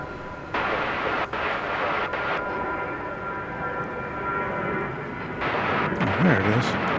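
An airplane flies near DFW Airport at night, giving a steady, broad jet roar throughout. Voices talk over it.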